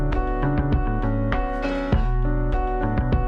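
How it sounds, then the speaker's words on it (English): A song excerpt with a deep, prominent bass guitar line driving under dense full-band music, loud and continuous. "Real bass guitar."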